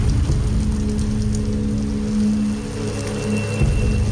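Steady rain falls: a dense, continuous wash of close patter and hiss that holds at an even loudness throughout, with no voices.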